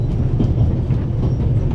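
A train rolling along in The Raven Remastered, a loud, close low rumble with a faint rhythmic clatter of wheels continuing steadily without voices.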